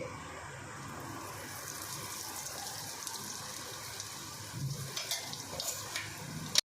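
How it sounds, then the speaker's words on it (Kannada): Mustard seeds and asafoetida sizzle steadily in hot oil for tempering, a close, even crackle running throughout, with a few brief clatters near the end. "ಇದಕ್ಕೆ ಒಗ್ಗರಣೆ ಹಾಕ್ತಾ ಇರೋದು ನಾನು"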